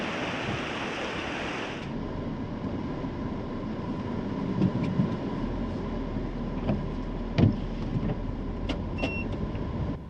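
A car drives back toward Fort William on a dull day with unsettled weather, giving a steady low road rumble and engine hum from inside, with small knocks and clicks and no talking.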